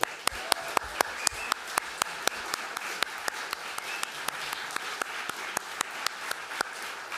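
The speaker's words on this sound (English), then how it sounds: "I'd like you to join me in giving a warm welcome and round of applause for one of our founding editors, Scott McConnell" Gala guests give a founding editor an applause welcome, a steady wash of many hands clapping at moderate volume with a few sharp, distinct claps standing out at an even pace throughout.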